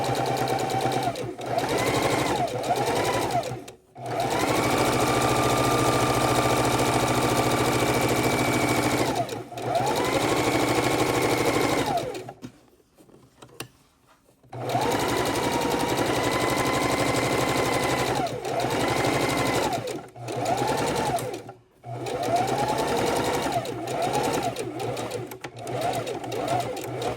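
A sewing machine stitches through two layers of fabric in long, steady runs, pausing briefly between them and stopping for a longer gap midway, loud and close with no talking.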